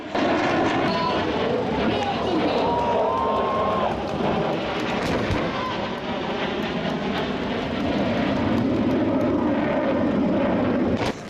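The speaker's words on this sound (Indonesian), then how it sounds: "Sejumlah pesawat jet tempur milik TNI Angkatan Udara berputar-putar di langit mengincar sasaran." Indonesian Air Force fighter jets circle overhead during a combat exercise, making a loud, continuous engine roar that swells and eases over several seconds with outdoor background noise.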